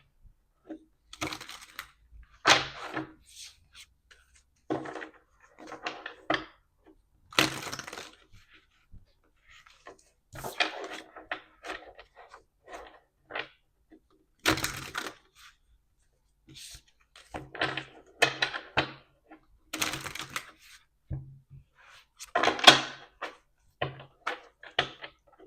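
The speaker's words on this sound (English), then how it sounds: "I'm going to go ahead and give this deck a shuffle" Tarot cards being shuffled, repeated bursts of crisp riffling and slapping, close and quiet, separated by short pauses over about twenty-five seconds.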